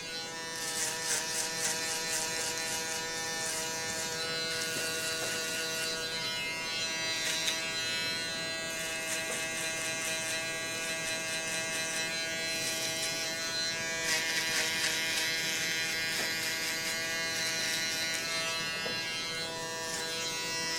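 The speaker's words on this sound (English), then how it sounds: "I'm going to use my UV foil shaver, and I'm going to shave away all the stubble that I just took off with my outliner" A UV foil shaver buzzes steadily and close up as it clears stubble from a freshly outlined hairline while finishing a haircut, holding one continuous electric drone for about twenty seconds with no talking.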